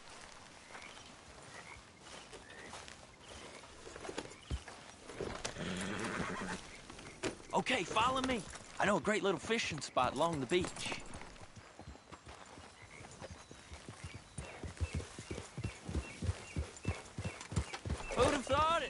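Horse in the video game Red Dead Redemption 2, with rhythmic hoofbeats clip-clopping steadily, a clear whinny partway through and a run of quicker hooves near the end, under a character's spoken dialogue.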